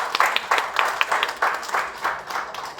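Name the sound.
audience applause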